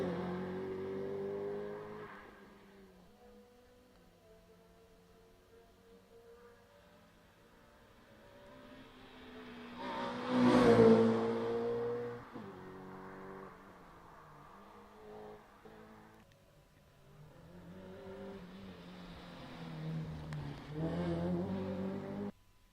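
A Honda Civic race car on a wet hillclimb course, its engine note rising through gears, faint at first, swelling loudest midway as it passes near, then fading and building again into the distance.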